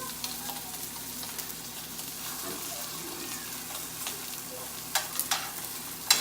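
Steak searing in a pan, a soft continuous sizzle with a few louder pops and crackles near the end, fairly quiet and close.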